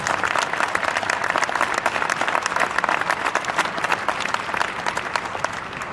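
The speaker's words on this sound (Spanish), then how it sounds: "Un aplauso enorme para Carlos García." Dense, steady applause from a large audience at a conference, many hands clapping continuously and loudly for the full stretch with no speech over it.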